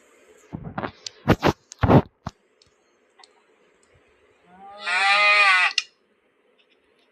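A single cow moo from the Minecraft video game, a wavering call of about one second that stands out clearly after a few scattered clicks and taps, with no talking.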